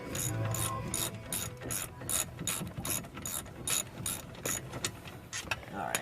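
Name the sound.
ratchet with 17 mm socket loosening brake bolt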